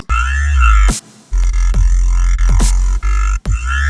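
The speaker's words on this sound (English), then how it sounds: "But just add some drums, it'll sound like this." Heavy synth bass with added drums, a loud sustained low growl broken by sharp kick hits and snare bursts in a steady dubstep pattern.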